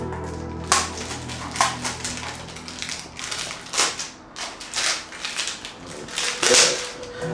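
Cardboard packaging for an Oud Wood fragrance box being ripped and torn open, a close series of sharp crackling tears and crunches in irregular bursts, with no talking.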